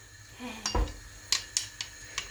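A metal spoon knocks and scrapes against a pot while popcorn is being made at home, giving several sharp, close clinks spaced apart over a quiet background.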